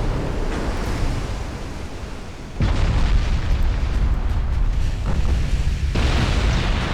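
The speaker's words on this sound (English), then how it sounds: "Let's turn so we can get these other turrets firing instead of just the front ones" Naval gunfire from battleship turrets in the warship game UA: Dreadnoughts, heavy booming blasts over a constant rumbling background of sea and engine noise, with a big broadband salvo near the middle and a few more bursts later, loud and continuous.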